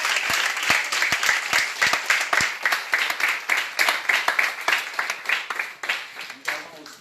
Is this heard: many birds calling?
no